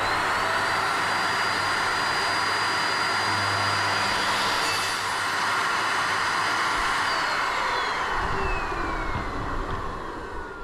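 Strong wind roars steadily across the whole stretch, a broad rushing noise with a faint high whine through it, gusting slightly toward the end.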